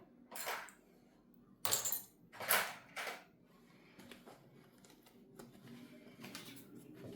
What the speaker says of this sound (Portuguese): Fiz essa costura de pesponto para prender a alça.